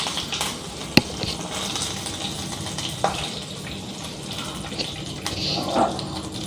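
Fennel seeds, cinnamon and two cardamom pods dropped into hot coconut oil for tempering give a steady soft hiss and crackle, with a few sharp pops and clinks from utensils, close and moderately quiet.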